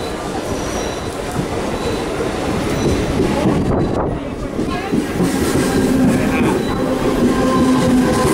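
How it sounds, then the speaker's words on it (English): A train rumbles loudly into a station platform in Bandra, Mumbai, wheels clattering and squealing on the rails, with a low steady roar throughout. "I don't know if you can see it, but the train has arrived."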